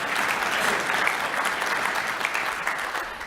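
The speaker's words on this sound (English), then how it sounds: "so thank you, yes, big applause" An audience at a community talk on the prison pipeline gives a steady round of applause, dense and continuous throughout with no clear voices.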